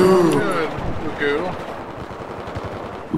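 Rapid semi-auto shotgun fire from the U100 in Battlefield 4 close-quarters play, loud booming shots in quick succession under someone talking.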